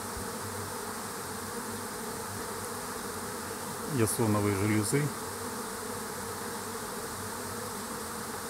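A flying honey bee swarm makes a continuous, loud, even drone, with someone speaking briefly over the humming midway.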